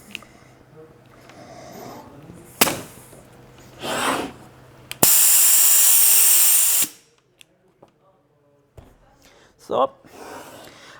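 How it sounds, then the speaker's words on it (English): Compressed air hisses out loudly for about two seconds as pressure is relieved from a rotocube valve actuator, standing out amid scattered clicks and handling noise. "We relieve the pressure."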